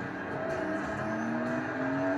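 A car in a driving video game accelerates hard in second gear from about 30 miles an hour, its engine note climbing steadily in pitch, loud and continuous with no voices.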